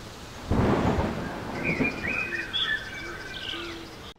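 Intense rain falls at Berthierville, opening with a loud rumble like thunder, then easing into a softer wash with bird-like calls over it.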